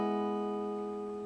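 A major chord strummed on guitar rings out as one sustained, clear chord that slowly decays with no other sound.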